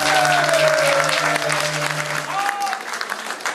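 An audience at a fantasy role-playing and cosplay festival concert claps steadily, a dense patter of applause that thins out toward the end, with a French-speaking voice audible over it.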